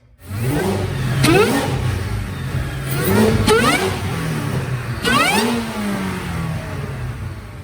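A 2018 Ford Mustang GT350 with a Whipple supercharger and ARH exhaust roars through a dyno pull, its loud engine climbing in repeated rising sweeps with supercharger whine, alone and close.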